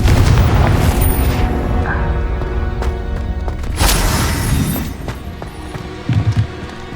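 Confringo fire-blast spell from Hogwarts Legacy, a loud, dense booming explosion that rumbles and then decays over several seconds, with a few smaller bursts and crackles after it.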